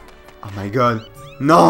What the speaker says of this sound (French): J'ai entendu un chat.